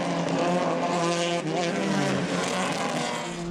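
Classic race cars, a Porsche and a Ford Escort RS 1600, roar past on a circuit at Braga, with engines howling loudly and continuously and the pitch shifting as they accelerate.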